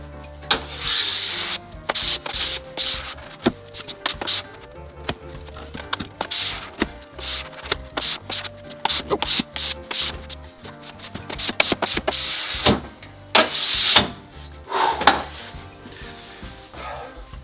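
A scraper drags across a waxed snowboard base during home waxing, making repeated close, rasping strokes in irregular bursts, some short and some drawn out, with brief pauses between passes and no talking.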